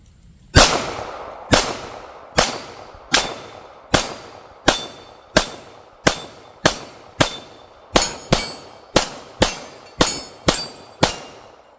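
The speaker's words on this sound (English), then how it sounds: "put some rounds on steel and let you guys see this thing in action." Pistol shots from an SCT Glock 34 clone competition handgun fired at steel targets: about sixteen sharp, loud cracks at a steady, roughly once-per-second pace, each followed by a brief metallic ring from the plates, with no talking.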